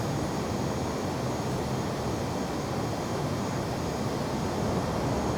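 Airliner engines at Frankfurt in Microsoft Flight Simulator 2020, heard while the aircraft taxis: a steady, even roar that holds at one level throughout, with no voices.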